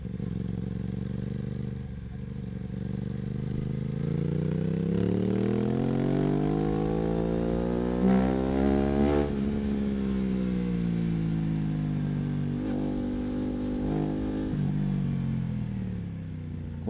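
An Aprilia RS 660 Extrema motorcycle accelerates on the road, its engine note climbing steadily in pitch, dipping and rising again through the gears, close and loud with some rattle and wind.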